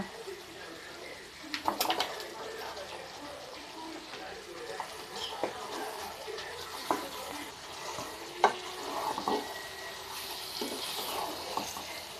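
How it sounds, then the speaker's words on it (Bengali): Chicken meat stirred into fried spice paste for a spicy country-chicken curry, with a soft ongoing sizzle and scattered clacks and scrapes of a spoon against the pan, moderately close. "এবার আমি দিয়ে দেবো মাংস"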